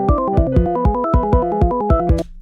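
A 3x Osc synthesizer in FL Studio plays a quick sequence of repeated short melodic notes in a steady rhythm, clean and close, ending abruptly.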